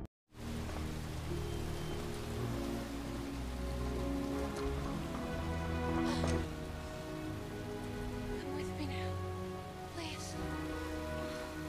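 Heavy rain in a scene from the film The Incredible Hulk, a steady, dense downpour pattering across surfaces throughout, loud and continuous with a brief swell midway.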